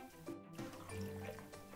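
Water pours into a cooking pot of peeled, cut potatoes, a close, quiet, steady splashing and filling sound lasting under two seconds.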